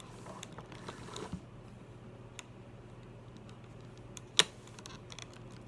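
Small, sharp clicks from the body joint of a Doll Chateau Matthew doll being moved, one crisp click standing out near the end over a quiet room hush.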